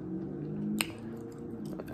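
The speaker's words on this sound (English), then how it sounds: "I'm slapping this gum mad hard" Gum being chewed loudly and wetly close to the mouth, with soft squishy smacks and one sharper snap partway through, alone without talk.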